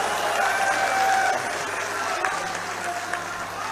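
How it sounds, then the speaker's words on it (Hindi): Assembly hall applause: a dense, steady patter of many hands clapping together fills the space, continuous and fairly close. "पूरा सदन तालियों से गूंज उठा"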